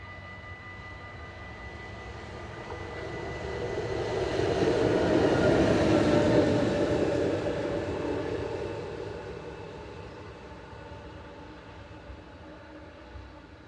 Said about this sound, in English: Approaching the camera is electric locomotive number